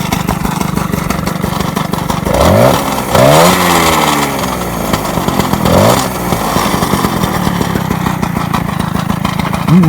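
A small motorcycle engine, likely an SPX race model, runs steadily with two or three sharp rev rises that swell and fall back to a busy idle, loud and close, with no talk.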